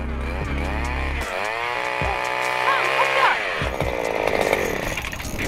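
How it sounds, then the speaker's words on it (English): A loud motorized ice auger whines and roars continuously near the listener, drilling holes in a frozen lake, engine pitch shifting as it bores, with a voice briefly audible midway. "I was drilling a big line of holes."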